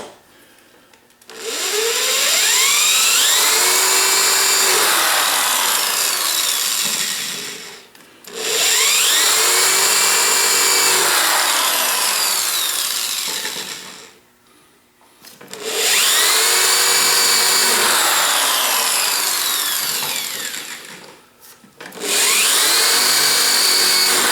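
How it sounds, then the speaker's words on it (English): Power drill countersinking holes for stainless steel screws in the bottom of a wooden SnowWalker toboggan, four loud sustained whirring bursts of several seconds each, separated by short pauses. "Next up is countersinking the stainless steel screws for the bottom of the toboggan."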